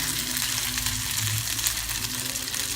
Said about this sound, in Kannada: ನಿಧಾನವಾಗಿ ಎಣ್ಣೆಗೆ ಬಿಡೋಣ